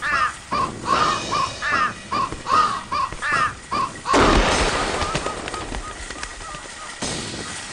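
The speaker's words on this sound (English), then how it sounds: "Up with the frickin' birds!" A run of rapid, loud crow caws in the game Thirty Flights of Loving gives way abruptly to a heavy burst of gunfire and a long, rumbling wash of noise that slowly fades.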